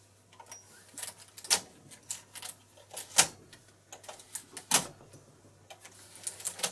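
Brother double bed knitting machine carriage pushed across the needle bed while casting on for 2x2 rib, giving a run of sharp clacks and rattling clicks at uneven intervals, close and fairly quiet.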